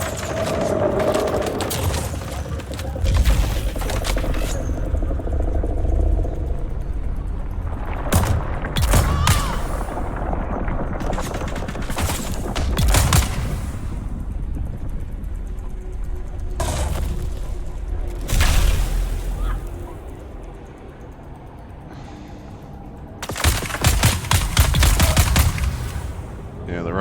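Rifle gunfire in the video game Dune: Awakening, loud bursts of repeated shots in clusters with short pauses, alongside other game sounds and effects.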